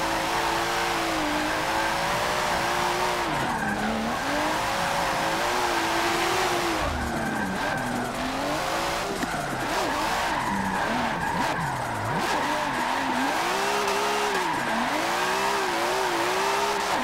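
Car held near redline while drifting around a long corner in Forza Motorsport 7, a loud continuous engine howl wavering up and down in pitch with constant tire skidding and squeal, alone without talk.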